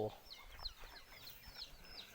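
Chickens clucking in a farm pen, several scattered calls over a steady background murmur, fairly faint and at a moderate distance.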